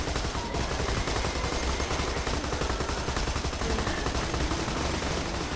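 Continuous rapid automatic gunfire in Borderlands 2 as players shoot Bullymongs, a dense, loud, unbroken stream of shots with no talking.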